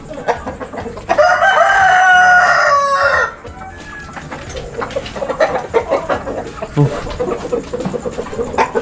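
A rooster crows loudly and close for about two seconds, followed by scattered clucking from several white Rhode Island cross hens in a busy farmyard.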